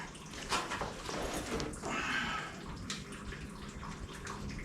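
Water from a 1981 Corvette's leaky timing cover splashing and trickling into a basin or drain pan, an irregular close pour with small drips, fairly quiet.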